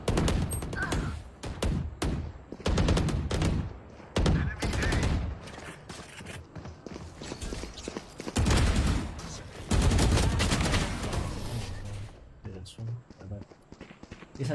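Stinger submachine gun fire in the shooter game Valorant comes in rapid, repeated bursts mixed with other game effects, while a voice talks over parts of it.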